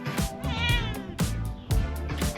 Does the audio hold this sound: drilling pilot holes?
no